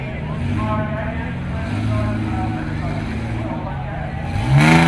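A short-wheelbase early-edition Mitsubishi Pajero off-road car labours up and over a big rock, its engine droning steadily and loudly, then rising into a sharp rev burst at the end, with voices talking over it.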